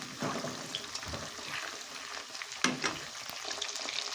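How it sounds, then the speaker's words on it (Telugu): Chicken pakoda pieces fry in oil in a pan, giving a dense, continuous close crackle and sizzle with a few sharper pops and stirring scrapes, no speech. "రెండో వైపు కూడా ఆయిల్లోనైతే బాగానైతే ఫ్రై అయితే చేసుకున్నాం"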